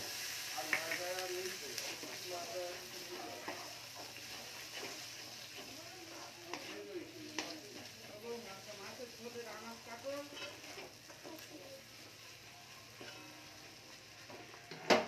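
Green peas tipped into a wok of spice masala already frying in oil, giving a steady close sizzle and stirring scrapes for the whole stretch, loudest at the start.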